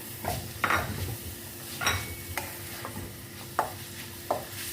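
Chicken cubes and other ingredients stirred in a metal pan with a utensil, giving repeated scraping clinks over a steady low sizzle, close and alone with no talk.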